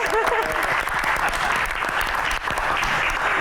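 Audience applause for Kang Soleh on a talk show panel, a dense, steady burst of many hands clapping close and loud, with a few voices mixed in underneath.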